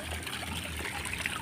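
Clean, clear flowing water trickles and streams steadily, with a soft broadband wash that stays constant throughout at close range.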